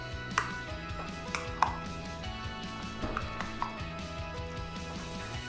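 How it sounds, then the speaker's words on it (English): A spoon stirs tuna salad ingredients in a bowl, giving soft scraping with a few sharp clinks and taps against the bowl over a low steady background hum. "And now I'm just going to mix all of this here together until it is well combined."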